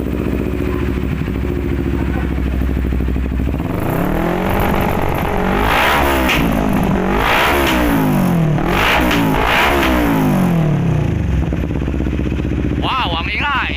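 A motorcycle fitted with a Villain R11 aftermarket muffler idles with a deep rumble, then revs hard several times in loud rising and falling bursts, close by. Voices react briefly near the end.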